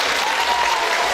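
Loud, dense audience applause fills a ceremony hall at a Gori culture centre event closing Europe Days, steady and continuous throughout without breaks.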